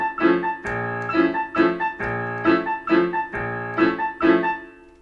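Piano arrangement with a xylophone line on top and no clarinet, playing a bouncy, evenly spaced pattern of struck chords and bright mallet notes, about two per second, steady and clear with no voices.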